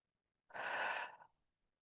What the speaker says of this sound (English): inhale through the nose and exhale through the mouth for 3 breath counts